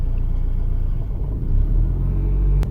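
Car engine idling at roughly 840 RPM, a steady low rumble close to the microphone with no voices over it.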